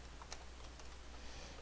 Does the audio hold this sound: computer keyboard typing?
yes